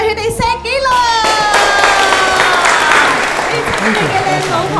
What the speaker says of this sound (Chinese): 掌声未停